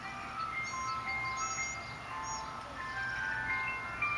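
An ice cream truck plays its jingle at a distance, thin melodic tones drifting faintly over steady outdoor background noise throughout.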